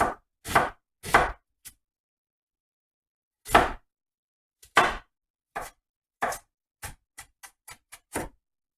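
A knife chops onion into rough pieces on a board, making a run of sharp, distinct strikes: a few spaced cuts, a pause, then quicker taps close together toward the end, near and clear with no talking.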